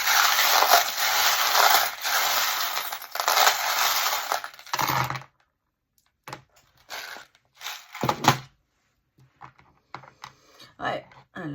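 Small charms are cast onto a surface for a card reading, first in a long run of dense clinking and rattling, then in scattered short clicks and knocks separated by quiet pauses.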